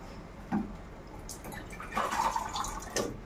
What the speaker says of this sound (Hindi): बस गाइस इतना पानी डालना है।